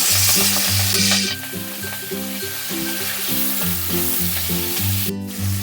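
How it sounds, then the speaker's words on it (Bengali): Pieces of hilsa fish frying gently in hot oil, a steady close sizzle that runs through the whole stretch beneath rhythmic background music. "মাছগুলো আমি আস্তে আস্তে দিয়ে লাল করে একটু ভেজে নেব"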